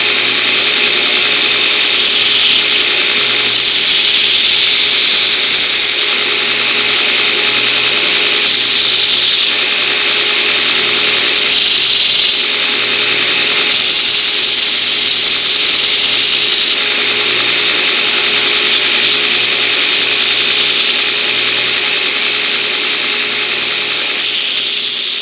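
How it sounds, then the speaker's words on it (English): A 2x72-inch belt grinder runs loud and steady while cleaning the edges of cut masonry nails, a continuous abrasive whine rising and easing slightly as the metal is pressed against the belt, with no talking. "I'm going to use the 2x72-inch grinder here"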